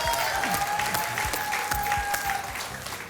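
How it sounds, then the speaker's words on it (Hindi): A studio audience on a Hindi game show claps loudly and continuously for the whole stretch, with scattered cheers rising over dense applause. "तालियां।"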